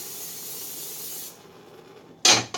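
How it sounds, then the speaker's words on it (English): A can of spray butter is sprayed onto a pan for cooking bacon, giving a steady close hiss that stops partway through, followed by a short loud burst of sound. "you don't per se have to use like spray butter on your like meat or bacon or whatever you're making"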